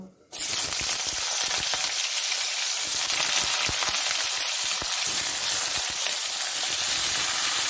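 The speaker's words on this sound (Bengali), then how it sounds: "ওই তেলেই বন্ধুরা আমি এঁচড়টাও একটু ভেজে নেব" Raw jackfruit pieces fry in hot oil, a sudden burst of loud, dense sizzling that starts as they hit the pan and then holds steady and crackling throughout, close up.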